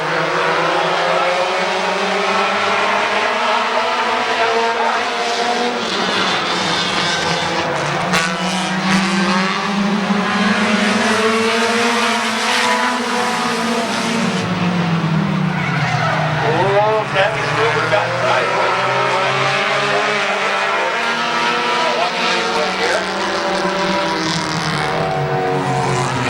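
Race cars run side by side at Midvale Speedway, a loud, continuous engine roar that rises and falls in pitch as they lap, with a commentator talking over it throughout.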